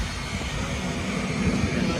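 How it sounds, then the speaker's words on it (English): Boeing 757 airliner on the ground before a flight to Antarctica, its engines giving a steady, loud low rumble that holds without a break for the whole stretch. "Here is the ALE plane that we're going to fly on the 757"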